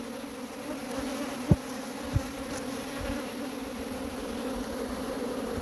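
Honeybees buzz steadily around an open hive during blueberry pollination in the KZN Midlands, a continuous close drone with a couple of brief knocks from handling the frames.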